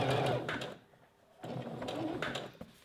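A sewing machine stitches elastic and a strap tab onto bra fabric in two bursts of rapid, close mechanical whirring, separated by a short pause.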